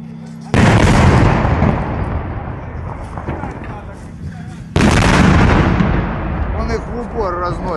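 Tank cannon fire at point-blank range into buildings at an Azov base during urban combat in Ukraine: two huge, close blasts with long rumbling decays, debris and distant crackle between them, and faint voices in the background.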